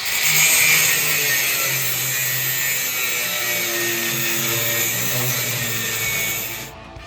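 A power tool cuts metal off a 1956 Chevy pickup while power brakes are installed, a loud steady whine with high pitched overtones and a lower droning hum that runs throughout and then stops abruptly at the end.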